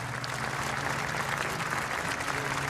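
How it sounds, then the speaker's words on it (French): A large crowd outside a church applauds as Jacques Chirac's coffin is carried out, a dense, sustained roar of clapping that stays steady and fairly loud throughout. "À la sortie de l'église, le cercueil de Jacques Chirac est ovationné par la foule."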